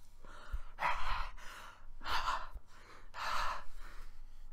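A voice imitates someone accidentally gulping vinegar instead of water: three broad breathy bursts of gasping, sighing exhalation, close and fairly loud, separated by short pauses.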